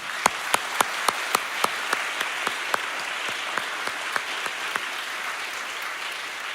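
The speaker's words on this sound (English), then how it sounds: "Another round of applause for all of our winners and nominees, please" Applause for award winners and nominees at a sustainability celebration held at a School of Music, a steady crowd clapping with a few sharp, loud individual claps standing out near the microphone in a regular rhythm above the general patter.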